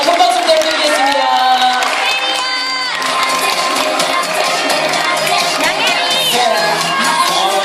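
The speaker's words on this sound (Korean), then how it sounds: "큰 박수 부탁드릴게요" A crowd at a children's recital claps and cheers loudly and continuously, with children shouting and whooping amid the applause.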